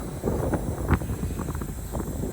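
Wind buffets an outdoor microphone in steady low rumbling gusts near a farm drill being calibrated, with no voices.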